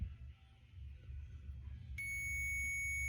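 A multimeter on a continuity test during a Pyle speaker repair gives a sudden steady high-pitched beep that starts partway through and holds to the end, over a faint low hum.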